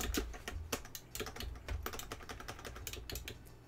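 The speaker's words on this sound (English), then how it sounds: "And you can hear the clickiness of the joystick." Rapid clicking from a homemade arcade stick's joystick and buttons during play, dense irregular plastic clicks and taps close to the mic, fairly quiet and continuous, with no voices.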